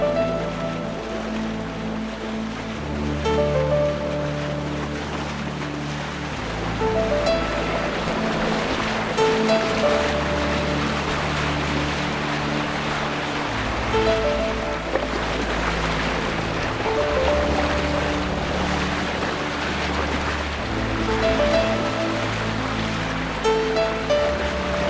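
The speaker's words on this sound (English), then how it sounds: "we headed out of Stonehaven and had some great coastal sailing" A sailing boat moves along the sea off Stonehaven, with waves washing and slapping around the hull over a low, steady rumble that swells and eases in long surges.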